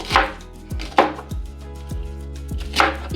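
A knife chops cabbage into large pieces on a board, with four or five sharp, close thuds spaced at a steady rhythm and the blade ringing briefly after each stroke. No one speaks.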